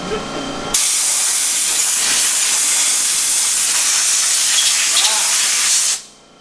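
A power washer blasts an engine block with a loud, close, unbroken roaring hiss that starts abruptly, holds for about five seconds and then fades out.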